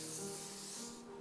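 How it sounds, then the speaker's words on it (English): A short hissing spray from an aerosol can of cooking spray, a quiet continuous burst lasting about a second. "Here's my spray."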